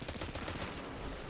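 Rapid gunfire in the video game Destiny 2 as Hive enemies are shot, a dense continuous burst of shots filling the whole moment with no pauses.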